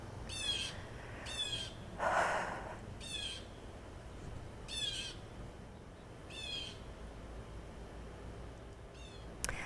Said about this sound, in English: It's a blue jay, very loud bird.